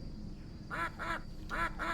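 Four quick quacks from a duck in the Killing Time Resurrected video game come in two paired bursts, loud and close over a low background hum.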